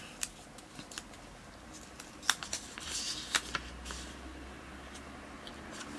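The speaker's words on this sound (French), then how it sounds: "je tourne dans le bol comme ça, vous voyez. Et je prends le premier papier." Paper slips rustle and crinkle as a hand stirs them in a bowl during a prize draw, with soft scattered crackles that cluster into a busier burst midway before thinning out.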